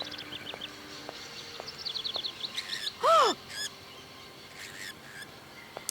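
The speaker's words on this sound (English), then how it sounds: "Birds are loud." Birds chirp and twitter in a game's outdoor scene, several quick high calls scattered throughout with one louder, swooping call near the middle, all over a soft steady background.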